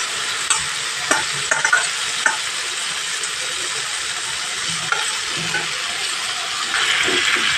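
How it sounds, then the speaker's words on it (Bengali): Potatoes and cauliflower are sautéed with spice paste and tomato in a pan, frying with a loud steady sizzle while a spatula scrapes and taps through the mix at intervals. "আলু ফুলকপিগুলো এবার আমি এখানে দিয়ে আরও ভালো করে কষিয়ে নিতে হবে"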